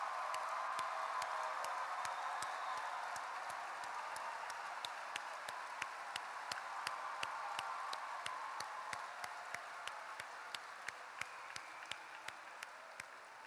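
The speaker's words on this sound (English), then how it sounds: "if we could have all the chapter advisors stand up so we can recognize, clap our hands" Convention audience at a state FFA session claps for standing chapter advisors, steady crowd applause at moderate distance with sharp individual claps standing out throughout.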